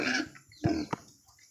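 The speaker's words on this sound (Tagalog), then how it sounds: "hindi kasi alam nyo naman yung baboy malikot" A restless pig with a lump at its navel gives a few short, rough grunts and snorts, close by and separated by quiet gaps.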